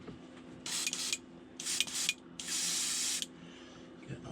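Short bursts of an airbrush spraying perch-pattern paint onto a jointed glide bait hiss on and off, three close, bright passes of about half a second to a second each, separated by quiet gaps over a faint background hum.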